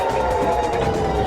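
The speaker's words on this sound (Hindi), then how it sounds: "शहर में हर तरफ एम्बुलेंस के सायरन की आवाज गूंज रही थी" A steady wailing ambulance siren with sustained tones, continuous throughout and fairly loud amid a dense background of city noise in Ganderbal, Jammu and Kashmir, after a terror attack.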